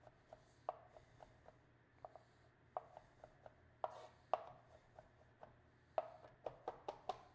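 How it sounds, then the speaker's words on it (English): A knife taps crisply on a cutting board as vegetables are chopped for a tagliatelle ragù, the cuts quiet and close, coming in uneven bursts of quick strokes with short pauses. "Don't be afraid to rock your knife."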